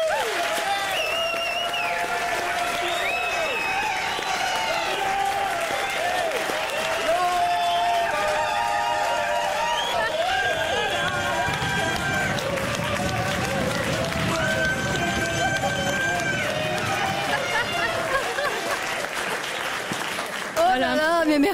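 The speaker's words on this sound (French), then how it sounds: "sous vos applaudissements publics ici et puis les vôtres chez vous derrière votre radio" A studio audience at a French radio show claps in a sustained, busy round of applause, with voices talking over it throughout.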